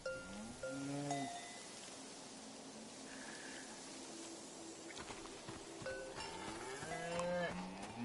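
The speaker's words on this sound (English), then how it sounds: "A beautiful cow named Gorp" A cow in a PS5 video game moos loudly twice, with one deep, drawn-out call at the start and another near the end, over a soft outdoor ambience with faint bell clinks.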